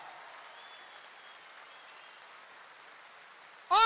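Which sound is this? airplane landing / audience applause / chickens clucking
audience applause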